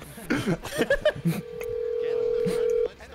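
A telephone call is placed with a quick burst of keypad dialing, then a steady tone holds for about a second and a half. Voices talk over the start.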